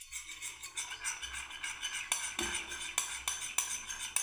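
Yogurt being stirred in a bowl for raita, with a rapid, fairly regular series of soft spoon taps and scrapes close by, quiet overall, with no talking.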